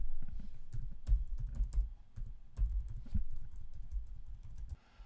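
Close, steady typing of an email address on a computer keyboard, a quick irregular patter of key clicks and taps with short pauses, running alone throughout.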